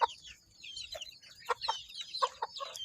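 Five-to-six-month-old free-range chickens cluck and murmur in short repeated bursts, with bird chatter layered over it, close by and without any speech.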